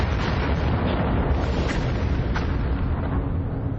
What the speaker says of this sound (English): Explosions of inconceivable power are tearing through the universe hundreds of times a day.